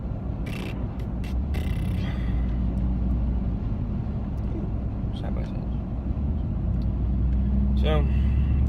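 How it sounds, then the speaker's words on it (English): A coal truck drives along a road ahead, giving a steady low engine and road rumble that holds throughout with slight swelling toward the end, while a person talks over it and faint clicks and squeaks come and go. "Getting stuck behind a coal truck."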